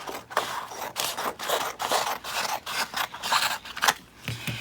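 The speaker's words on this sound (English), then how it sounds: "then you're going to want to cut your excess off" Scissors cut away excess paper around a composition notebook cover, a close series of rhythmic crisp snips and rustling paper scrapes, with no talk.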